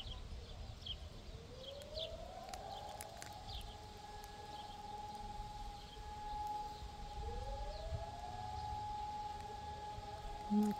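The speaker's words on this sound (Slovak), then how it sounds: "Akurát hučia sirény." Two distant civil-defense-style sirens rise and hold a steady wailing tone outdoors, the second starting partway through, with faint bird chirps and soft breathy noise around them.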